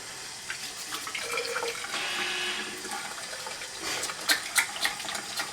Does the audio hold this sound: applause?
no